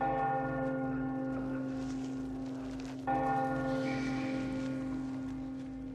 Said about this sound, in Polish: Co to za dzwony tu biją w ogóle?